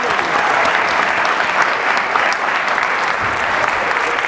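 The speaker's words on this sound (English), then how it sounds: "Please give them a big round of applause" Steady, dense applause from a studio audience on a late-night talk show, loud and continuous with no pauses, a few faint voices buried underneath.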